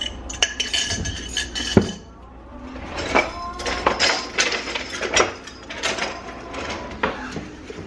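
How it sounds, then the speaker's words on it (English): Wet and dry blue cornbread ingredients, including butter and almond milk, being mixed in a bowl, with repeated clinks and scrapes of a utensil against the dish in an irregular rhythm, close and moderately loud. "now you mix your wet ingredients and your dry ingredients"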